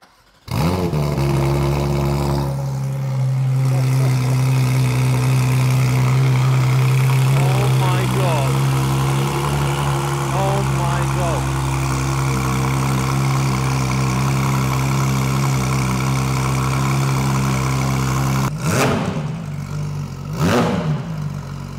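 A brand-new Porsche GT3 RS tuned toward 750 horsepower on pump gas, with billet intake and aftermarket exhaust, idles with a deep steady drone, then gives sharp loud revs near the end while people talk nearby.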